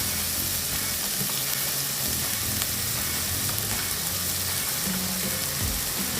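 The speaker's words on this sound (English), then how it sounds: "Just give this a little stir so it doesn't stick." Creamy seafood pasta sauce with bacon bubbling and sizzling steadily in a pan as it is stirred, a constant close frying hiss with occasional soft scrapes, no talking.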